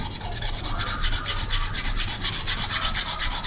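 Hand sanding with 100 grit sandpaper strips stain off a wooden cabinet door: close, rhythmic back-and-forth rasping strokes, about three to four per second, with no voices.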